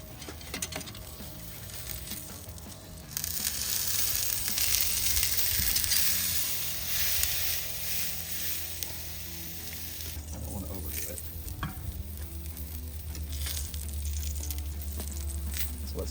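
A ribeye steak sizzles on a grill grate with a constant close crackle, interrupted by clanks and scrapes as the meat is turned, and a low hum sits beneath it toward the end.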